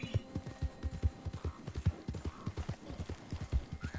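Horse hooves in the Red Dead video game clip-clop in a steady, brisk rhythm, close and distinct, with a low engine-like hum underneath and no talking.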